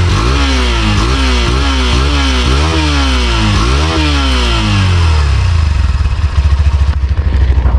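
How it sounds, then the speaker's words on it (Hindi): A Hero Xtreme 160R BS6 motorcycle engine revs repeatedly, about six quick blips with rising and falling exhaust pitch, then settles into a loud close idle with a throbbing exhaust note. "तो आपको इसका एग्जॉस्ट नॉट भी सुना देता हूँ।"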